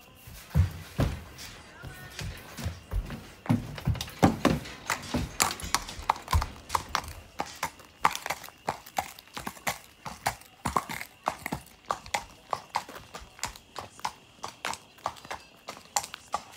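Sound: horses' hooves coming off a trailer

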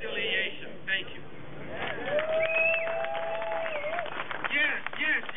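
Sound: crowd applause at community rally

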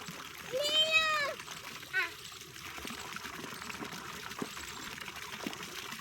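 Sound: water being poured

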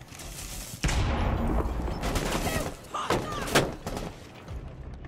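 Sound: gunfire in the video game Rainbow Six Siege

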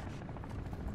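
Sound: attack helicopter in video game Call of Duty MWIII

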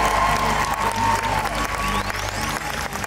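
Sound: audience applauding and cheering for costumed teacups

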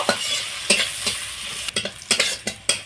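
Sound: chopped onion frying in a pan

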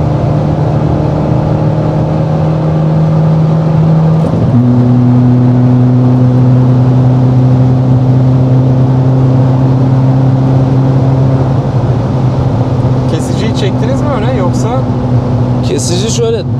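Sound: revving a modified 250 HP VW Golf Mk6 1.6 TDI diesel

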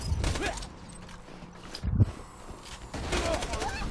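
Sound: dual-wielded gunfire in the video game Borderlands 2

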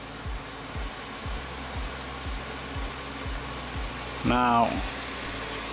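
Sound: car engine idling then RPM raised

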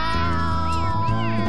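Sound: cat meowing

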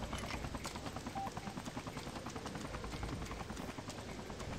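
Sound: helicopter in the video game Freedom Fighters

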